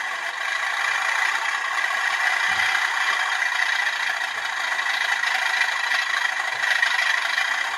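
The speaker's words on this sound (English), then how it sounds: "Number 8 is thrash. So what we're going to do, we press number 8." A Hornby Class 37 model locomotive's sound unit playing its engine thrash setting: a steady, loud, buzzy diesel roar with a rattling whir that holds level throughout, no voices.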